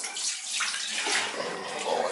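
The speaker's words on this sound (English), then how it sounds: "Shower. It's open." Water running from an open shower in a large summer home being winterized, a steady broadband hiss of flow that continues throughout at moderate level with no talk.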